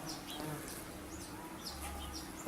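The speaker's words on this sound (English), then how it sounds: "They're buzzing around me, but I don't think they're angry at me." Wasps buzzing close by outdoors while feeding at honey or tuna bait, a steady, continuous drone with faint higher chirps in the background.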